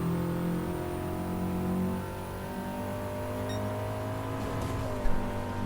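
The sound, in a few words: race car engines in video game Gran Turismo 7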